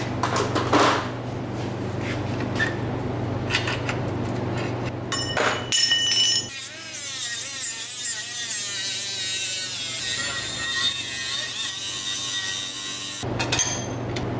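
A power cutting tool grinds through metal angle stops on a car's lower control arm, a long harsh continuous cut with brief pauses and shifts in pitch, loud and close with no talking.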